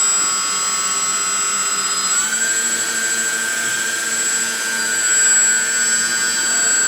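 The two motors of a Dash 8 aircraft hold a steady high whine and hum. Partway through they step up in pitch and loudness as the throttle rises, then stay constant and close.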